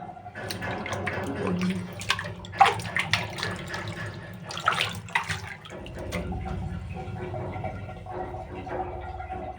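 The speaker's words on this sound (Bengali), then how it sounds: "চালনিতে রেখে আমি পানিটা ঝরাই নেব" Water drains from washed rice through a sieve, pouring and trickling in uneven gushes before settling into a softer steady flow.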